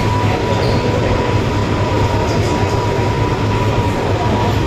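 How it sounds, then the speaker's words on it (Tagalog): Train in Singapore rolling through loudly nearby, a dense continuous rumble with steady rail noise and a faint high squeal over it. "Hintay na lang ng train"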